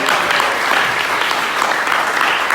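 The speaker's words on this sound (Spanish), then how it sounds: "Un aplauso fuerte para el Señor." Church congregation clapping loudly for the Lord during a Spanish-language sermon, a dense continuous burst of applause filling the whole moment with no talk over it.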